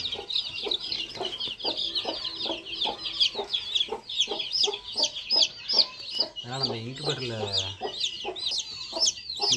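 Mother hens cluck over a constant chorus of high peeping from newly hatched incubator chicks, close and busy, with a short, louder call from one bird partway through.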